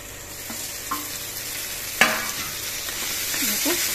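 Eel fish (kuchia) sizzling as it fries in a pan with turmeric and chili powder, a steady close crackle with occasional stirring scrapes and a sharp clatter midway.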